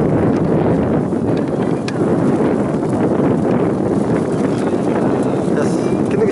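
Strong wind buffets the microphone outdoors at a kite-flying contest in a park, a loud continuous low rumble across the whole stretch, with a voice talking over it.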